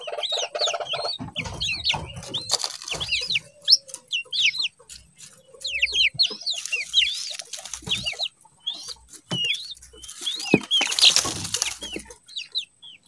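Chickens cluck and squawk repeatedly around a hen with young chicks growing their first feathers, close and busy with bursts of wing flapping and scuffling, no talking.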